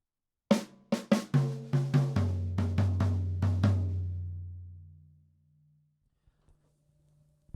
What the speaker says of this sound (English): the first pattern we're going to use to create our fill is an 8th note followed by two 16th notes